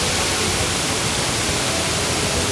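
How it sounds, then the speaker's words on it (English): A powerful waterfall in Mauritius roars close by, a loud, dense and unbroken rush of falling water that fills the whole moment. "really nice to swim against the waterfall because it's really powerful"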